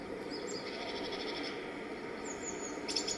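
Birds sing in a virtual world game environment, with repeated high chirps and short trilling phrases over a steady ambient hiss, fairly loud and close.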